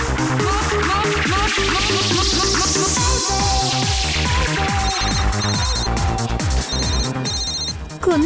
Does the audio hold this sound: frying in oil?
no